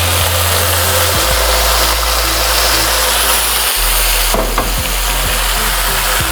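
Boiled chickpeas tipped into hot frying masala for a Pakistani white chana salan, a loud steady sizzle with a low hum underneath and a brief stirring clatter partway through.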